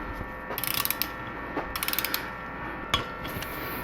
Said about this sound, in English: I'm just torquing these down to about 7 foot-pounds